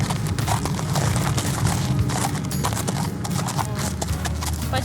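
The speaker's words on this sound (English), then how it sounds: "I'll just hop on my horse like that." A horse ridden bareback with no saddle clip-clops steadily on the ground, hoof beats close and continuous with a little faint background noise.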